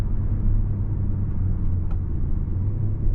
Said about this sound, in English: Nice smooth downshifts with the paddle as well.